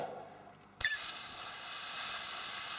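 A sudden sharp burst of hissing air starts after a quiet moment and continues as a steady, close airy rush with faint bubbling, as an airbrush is back-flushed with the nozzle held, bubbling acrylic paint and thinner in the color cup.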